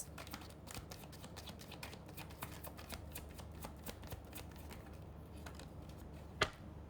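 Tarot cards shuffled by hand make a steady, close run of quick papery riffling clicks, ending with a single sharper slap as cards drop out.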